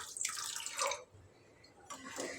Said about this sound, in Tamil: ஒன்றரை கிளாஸ் அளவுக்கு தண்ணி விட்டுக்கலாம்